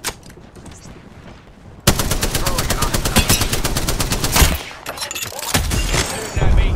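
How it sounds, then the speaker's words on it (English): Rapid automatic gunfire in the video game Fuse, a loud close burst of evenly spaced shots that runs for a few seconds, breaks off briefly, then starts again, with a voice speaking around it. "Shooting at me."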